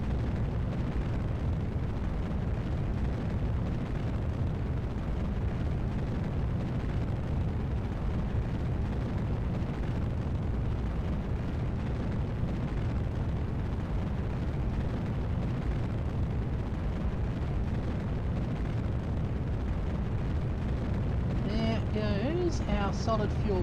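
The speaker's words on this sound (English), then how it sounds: "Our solid fuel rockets burning their way up. Mainsails helping." Solid fuel rocket boosters roar steadily during a launch in the Kerbal Space Program video game, a dense continuous rumble heavy in the low end that holds loud throughout, with a brief tonal flutter near the end.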